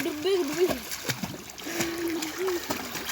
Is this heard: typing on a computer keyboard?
no